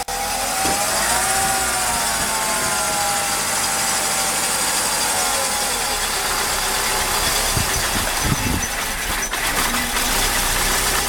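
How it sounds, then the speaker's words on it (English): A Mercedes M104 engine with faulty throttle body wiring idles roughly, its speed rising and falling and nearly stalling, a loud close continuous drone with uneven knocking and vibration, no talk. "when it warms up, it will be hunting for idle speed"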